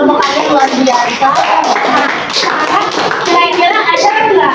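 Children clap in a classroom while their chatter and voices overlap the claps, a busy, loud and close mix of hand claps and kids speaking throughout.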